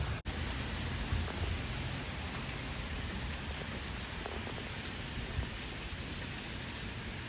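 Steady rain falls outdoors at a home in Sri Lanka, a dense continuous hiss of drops on surfaces that stays loud and even throughout, with no voices.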